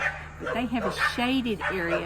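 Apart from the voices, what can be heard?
dog barking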